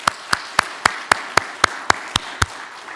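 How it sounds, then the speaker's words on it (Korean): Audience at a Korean staff worship service clapping to welcome new teachers, heard as crisp, steady claps in an even rhythm, about four per second. "여러분 박수로 환영해 주시기 바랍니다"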